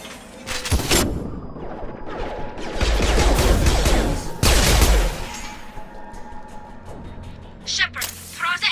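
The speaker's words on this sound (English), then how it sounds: "Shotgun!" Shotgun blasts ring out during a firefight in the Mass Effect video game, loud bursts mixed with other gunfire and combat noise while voices talk over the action.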